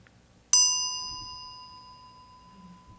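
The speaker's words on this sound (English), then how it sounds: "which is the signaling bell for us to bow" A yinqing signaling bell struck once, giving a single bright, clear ding that sets a steady tone with high overtones and fades slowly over a few seconds, with quiet room murmur underneath.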